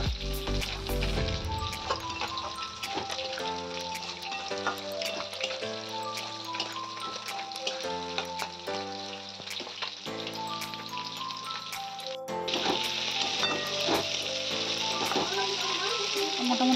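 Masala for rohu fish curry sizzles steadily while being sautéed in a pan with Kashmiri red chilli powder and salt, a continuous frying crackle with scattered spoon scrapes and clinks throughout and a louder patch near the end, with no talk.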